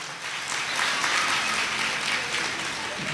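Audience applause at a Shrimad Bhagavat Katha religious gathering, greeting a named donor: a steady, full wash of many hands clapping throughout, fairly loud and continuous with no speech over it.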